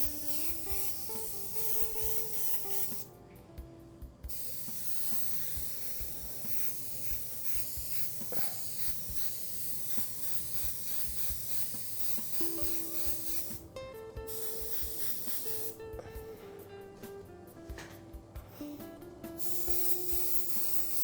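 A Colani spray gun fitted with a 1.2 mm needle sprays white paint, giving a steady, close airy hiss that runs almost continuously, broken by a few short pauses.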